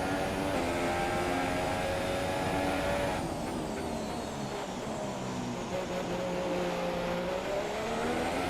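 Ferrari Formula 1 cars in the F1 2017 video game at the Malaysia circuit, engine notes whining at high pitch and shifting as a car sweeps past. The sustained racing roar continues throughout, with a commentator faintly underneath.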